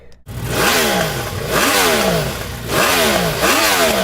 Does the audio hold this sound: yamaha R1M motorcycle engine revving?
yes